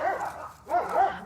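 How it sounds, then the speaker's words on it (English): Dogs bark in a few separate bursts across a short stretch, fairly close and loud, with a brief quiet gap between them. "These dogs, I tell you what, they're having a heyday."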